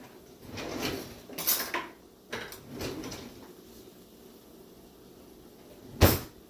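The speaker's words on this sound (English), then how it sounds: "I have to get a spoon out of the drawer." Kitchen drawer pulled open and rummaged while cooking chicken broccoli Alfredo, giving a few soft rattles and slides, then one sharp close or clatter near the end, nearby and fairly loud in a quiet room.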